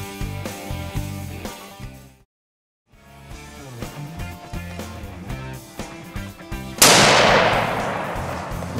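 A single sharp rifle shot rings out loudly near the end, over background music, as a hunter fires at a large whitetail buck at a hunting ranch in Ohio.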